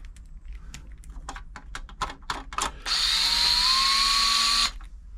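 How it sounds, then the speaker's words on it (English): An electric screwdriver drives the case screws of a Toyota 2640 sewing machine, first with a series of short clicking bursts, then a loud steady whir for about two seconds before stopping. "Get the electric screwdriver on the case, I think it's a bit quicker."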